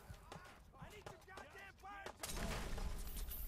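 Gunfire from the Fallout 4 video game: a loud, sustained burst of shots erupts near the end, after stretches of talking over quieter game sounds.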